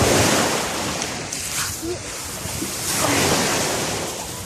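Surf rolls and washes continuously at the seaside, with steady wind buffeting the microphone in a broad, loud roar that swells and eases over a few seconds.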